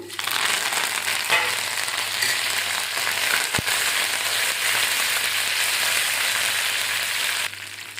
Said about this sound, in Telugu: ఇప్పుడు ఈ పోపులు వేసేసుకుందాము